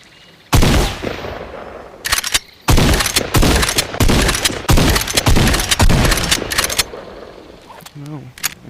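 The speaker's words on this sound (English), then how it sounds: "This one is Tac Shotgun from Fortnite" Tac Shotgun blasts in the VR game Bonelab, a run of loud, close shots fired in rapid, uneven succession with brief gaps, ending in a short quieter tail.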